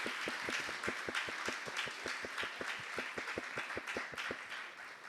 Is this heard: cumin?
no